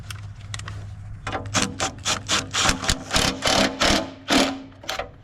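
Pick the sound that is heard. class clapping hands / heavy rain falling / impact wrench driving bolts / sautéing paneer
impact wrench driving bolts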